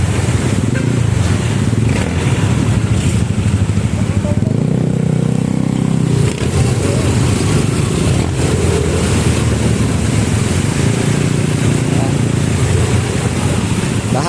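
Flood water in Balagtas, Bulacan swashes and roars steadily under a vehicle's engine as it pushes through the flooded road, with a continuous loud wash of water and wind noise and voices in the background.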